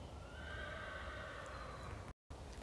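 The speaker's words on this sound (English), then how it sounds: "Also, I feel like I hear a horse." A horse whinnies at a distance, a long wavering neigh over steady outdoor background noise during a walk through a green forest nature reserve in the Netherlands.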